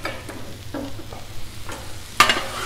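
Chicken being stirred and mixed on a Blackstone griddle for burritos, a soft sizzle under repeated scraping strokes of a spatula and one sharp metallic clack near the end.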